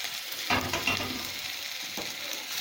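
Red, yellow and orange bell peppers stirred in a pan over medium flame, a soft steady sizzle with a couple of clear scraping stirs near the start and another near the end, no voices.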